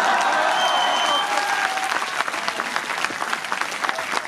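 Audience at a Hindi poetry gathering bursts into loud, dense applause that carries steadily, then thins into scattered claps toward the end, with voices faintly mixed in.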